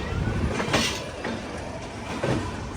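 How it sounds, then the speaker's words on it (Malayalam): Netravati Express passenger train from Thiruvananthapuram pulling into Lokmanya Tilak Terminus in Mumbai, a steady rumbling roll of railcars with a few faint wheel clicks across the platform, continuous and fairly loud, no speech. "സ്റ്റേഷനിലേക്ക് ഇതാ ട്രെയിൻ എത്തിക്കൊണ്ടിരിക്കുകയാണ്."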